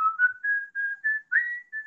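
A person whistles a short tune of about seven clear, sustained notes with brief gaps between them. The whistling is close and alone, with no voices.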